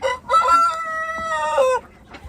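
A Buff Orpington rooster crows once loudly and close by, a long harmonic call with a rising start and a sustained middle, then a short fall-off, with a few faint clucks at the end.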